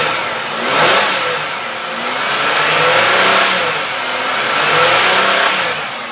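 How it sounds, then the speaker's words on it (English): A 1999 Chevy Malibu LS engine revs up and down repeatedly in smooth swells, rising and falling in pitch, close by with no talking. "let me rev this up and you guys can listen to it"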